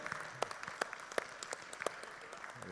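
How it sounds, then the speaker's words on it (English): Sparse hand claps from a small gathering at a healthcare marketing event, a handful of distinct, fairly faint claps scattered irregularly over a quiet room. "let's give a hand clap for Saturday"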